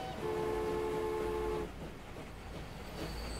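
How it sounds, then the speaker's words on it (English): Trains in the Transport Fever 2 game, a UK rail mod, running to and fro: a loud sustained horn-like tone for over a second, then a steady rumble of rolling rail cars with faint higher squeals near the end. "So trains toing and froing"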